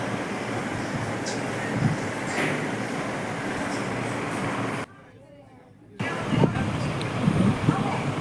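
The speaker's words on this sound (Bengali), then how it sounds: "এই মুহূর্তে আমাদের ট্রেন ব্রাহ্মণী নদীর ওপর দিয়ে চলেছে।" A passenger train crosses a wide bridge over the Brahmani River, giving a steady, loud rumble that drops out abruptly for about a second midway before resuming.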